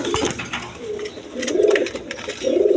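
Pigeons in a domestic setting giving soft, close, repeated throaty coos in short bursts, with faint clinks in the background.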